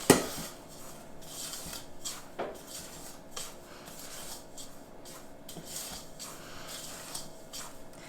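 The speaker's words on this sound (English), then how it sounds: "so I'm going to give those a stir." Dry muffin ingredients for double chocolate muffins are stirred by hand in a bowl, a faint close scraping and rubbing with occasional light knocks of the spoon against the bowl, no speech.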